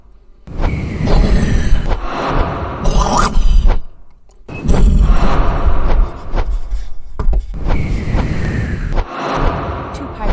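Space battle in a video game as patrol ships fire on pirate cruisers: loud, dense bursts of blasts and booming impacts in repeated waves, with short gaps between, under a narrating voice.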